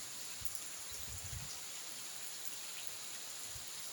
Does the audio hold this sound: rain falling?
yes